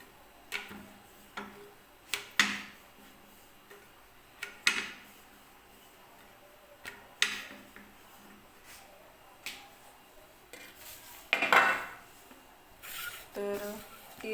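A rolling pin works wheat-flour puri dough on a plate in a home kitchen, making soft, irregular taps and clicks. The scattered sounds are quiet and close, with faint background noise between them.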